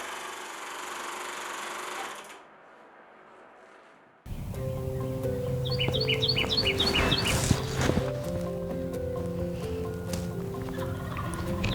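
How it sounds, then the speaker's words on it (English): A wild turkey gobbles in spring woods, a loud rattling call partway through over steady birdsong and forest ambience, following a quieter stretch. "The gobble of a turkey will excite anyone's emotion."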